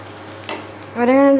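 Lentil filling being stirred and fried in a pan with salt and asafoetida for Bengali dal puri: a steady low sizzle, one sharp scrape of the spoon midway, then a louder, rising hiss as the mixture hits hot oil.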